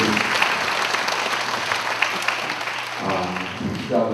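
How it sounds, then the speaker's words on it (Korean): A church congregation applauds at the closing worship service of a national ministers' summer seminar, a continuous wash of clapping over a low steady hum, with a brief lull and swell near the end. "하나님께 영광을 위해서 박수를 하나님께 드립니다."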